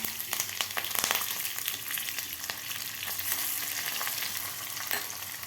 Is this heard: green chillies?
yes